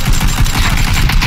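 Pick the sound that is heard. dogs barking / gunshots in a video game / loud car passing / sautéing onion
gunshots in a video game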